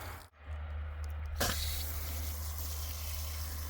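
Water runs steadily from a garden tap or hose while a stainless steel gardening tool is rinsed of sand, a continuous faint splashing hiss with one brief interruption near the start.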